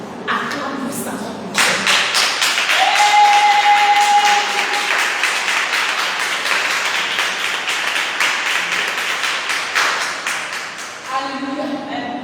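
A congregation at a church prayer service bursts into loud, sustained applause with rapid clapping and cheering that swells and carries on for about ten seconds before tapering off, with a voice briefly heard near the end.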